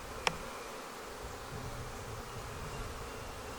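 Honey bees around an open red Flowhive during a queen cell inspection give a faint, steady hum that holds through the whole stretch, with one brief click near the start.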